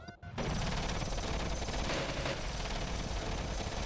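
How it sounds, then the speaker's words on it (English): Continuous rattling gunfire from Kerbal Space Program with the BD Armory mod, dense and steady throughout, with sharp bursts standing out over a constant rumbling din. "What's that gunfire going in there?"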